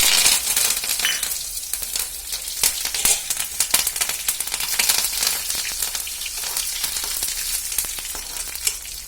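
Cumin, mustard seeds and curry leaves fry in four to five teaspoons of hot oil, a loud, dense, crackling sizzle with rapid popping that runs steadily throughout, close by and with no talk.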